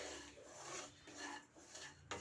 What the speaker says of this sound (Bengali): কড়াইতে আমি ভালোভাবে ভেজে নিচ্ছি এই ডালটি ভাজার জন্য কোনো তেলের প্রয়োজন নেই